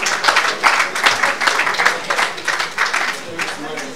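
An audience at a young members' arbitration conference in a Hilton hotel in Abuja gives a round of applause, a dense roomful of clapping that carries steadily for several seconds with a pulsing rhythm and some crowd murmur underneath.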